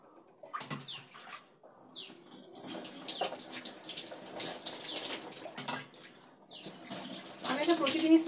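Warm water splashes and pours while a baby is bathed at home, uneven sloshing and trickling bursts that grow busier toward the end, close by and fairly loud.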